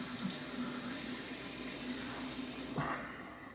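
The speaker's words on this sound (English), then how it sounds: "I'm running the tap on cold right now so it gets nice and cold" Cold water pouring steadily from a bathroom sink tap, a close, constant hiss and splash that fades as the flow is shut off near the end.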